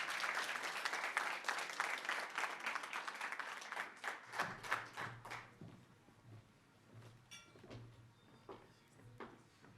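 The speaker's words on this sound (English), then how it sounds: "Round of applause, please." Dense applause from an awards ceremony audience fills the first few seconds, then fades into scattered claps and room noise with a low hum.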